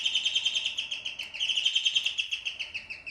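A doorbell in an abandoned house in the forest gives a rapid, steady, high electronic warble that sounds like bird chirping. It repeats continuously, with a short break around the middle, and no voices are heard.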